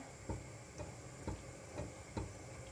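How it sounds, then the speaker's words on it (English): A spoon stirs creamy chickpea risotto soup in a pot, giving five soft, evenly spaced scraping strokes over a low background hum, fairly quiet and close, with no voices. "A little stir."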